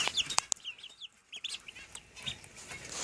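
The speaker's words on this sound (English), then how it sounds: "There's Chicken making a mess on my bed" A pet chicken clucks in short, close bursts indoors on a bed, with a few sharper squawks and scratchy rustling between the calls.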